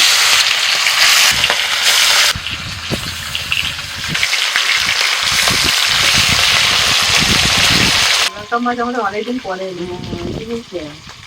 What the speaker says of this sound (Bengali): তেল গরম হয়ে গেছে মাল দিয়ে দিচ্ছি